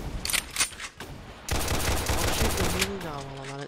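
Rapid automatic gunfire in a Roblox war simulator game, bursts of shots that break off and then return in a dense sustained volley, with a voice speaking over the end.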